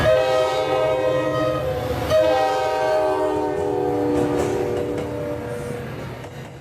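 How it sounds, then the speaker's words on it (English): A train rolls past with a loud, sustained multi-tone horn blast that cuts off and sounds again, wheels rumbling underneath, the whole pass slowly fading toward the end. "Can we change how we react to the sound of a train"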